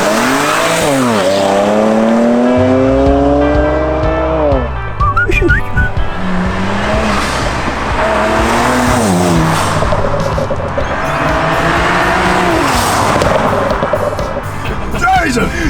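A BMW 335i with an N54 engine, downpipes and a Stage 1 tune is driven hard. The engine roars loudly throughout, with rising and falling whistling tones and squealing, skidding tires.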